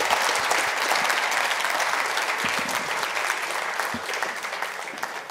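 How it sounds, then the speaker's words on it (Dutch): A crowd at a Coming Out Day event in Velsen claps together for a local alderman, a full, even wash of applause sustained for over five seconds without voices on top. "Gaan we klappen."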